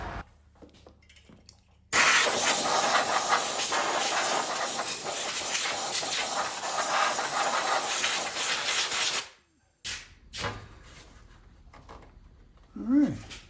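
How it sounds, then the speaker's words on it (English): Compressed air blow nozzle blasting out the battery box of a 2000 Yard Machines riding mower: a loud, sustained hiss for about seven seconds, then brief quieter handling noises. "let me get my blow nozzle and blow that battery box out."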